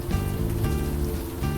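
Rain in the video game Unavowed, a dense steady patter heard alone and filling the short stretch at an even level.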